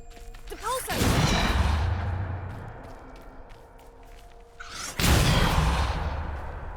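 A Depulso force spell fires in Hogwarts Legacy: two loud, booming whooshes with blast-like impacts land about four seconds apart, and a brief vocal cry comes just before the first.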